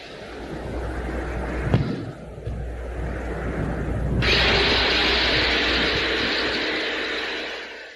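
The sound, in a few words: Venera lander drilling Venus surface, original recorded audio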